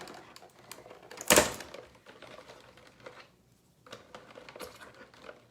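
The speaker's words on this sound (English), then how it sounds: "I always like to crack them into a little cup so you can make sure they're okay." Eggs cracked one at a time into a small cup while mixing Dutch baby pancake batter at home: one sharp, fairly loud crack followed by quieter taps and clinks of shell and cup.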